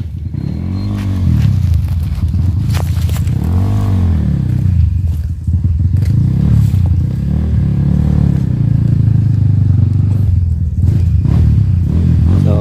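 Loud, steady engine drone of an enduro motorcycle climbing a hard trail on Mt. Paldingan, rising and falling with repeated revs, with clattering and scrapes as the bike works over rough terrain.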